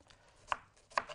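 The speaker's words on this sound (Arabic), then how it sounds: "معايا واحد عدد من البصله هنقطعها" A knife chops an onion into small cubes on a cutting board, two sharp close knocks about half a second apart in a quiet kitchen.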